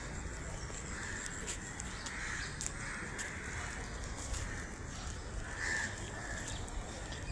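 Crows caw now and then in a leafy garden, short harsh calls fairly close amid steady outdoor background noise, with no talking.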